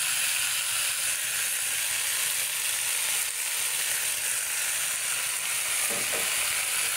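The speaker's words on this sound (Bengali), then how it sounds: "এটাকে এখন ভালো করে মিক্স করে নেব সবজিটাকে।" Vegetables with salt and ginger garlic paste get mixed in a pan, a constant loud sizzle running throughout with faint scraping of the spoon and a short clatter near the end.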